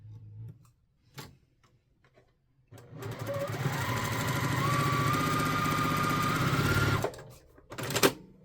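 A sewing machine stitches quilt pieces with a quarter-inch seam, running in one steady burst of rapid close mechanical ticking for about four seconds, with quiet handling clicks before and after.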